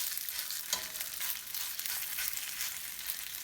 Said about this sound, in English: I'm going to shape the pancakes a little bit on the spoon before I put them in the oil.